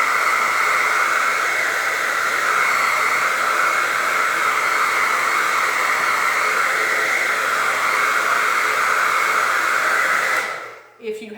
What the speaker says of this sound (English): I will take my blow dryer and put it on the cool setting